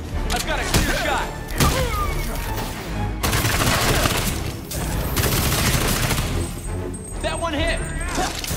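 Dense, continuous gunfire and heavy impacts fill a fight in the video game Gotham Knights, set in a dark city. Thuds and crashes are mixed in, and voices speak loudly over the shooting.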